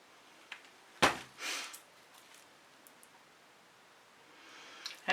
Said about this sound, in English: I sniff a lot.